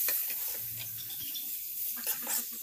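Tomatoes dropped into hot coconut oil for a Kerala-style quail egg roast give a soft, steady sizzle and faint stirring scrape, close and quiet, with no voices.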